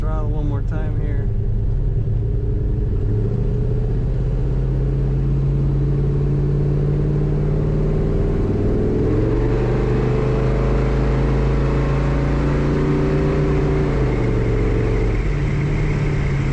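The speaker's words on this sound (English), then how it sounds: "Let's hit the throttle one more time here." A 1971 Chevrolet Chevelle Malibu 454 convertible's big-block V8 revving, a loud, close, continuous engine roar that climbs and falls in pitch through several throttle blips over a steady idle rumble.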